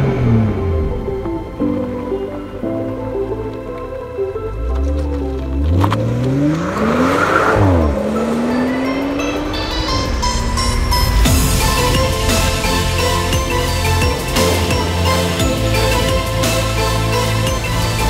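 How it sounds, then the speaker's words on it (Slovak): A 2017 BMW M240i with M Performance exhaust, integrated flaps and no center muffler, revs hard and loud at close range, its engine note sweeping up and down, with tire squeal and a rising burst of acceleration. "kompletne prepracovaná sústava výfukového potrubia s integrovanými klapkami a vynechaným stredným tlmičom však za ideálnej teploty a hlavne vyšších otáčok znie jednoducho nádherne"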